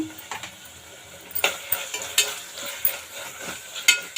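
A spoon stirs a palak, green pea and mushroom biryani mixture with salt in a pan, giving repeated clinks and scrapes against the metal over a soft sizzle, close and irregular.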